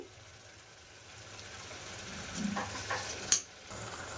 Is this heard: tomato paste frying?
yes